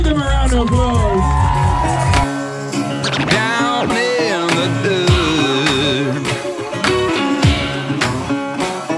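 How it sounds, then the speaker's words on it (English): A crowd cheers and shouts at a Tough Mudder obstacle race, a lively mix of whoops and raised voices with a person talking loudly close by throughout. "give them a round of applause"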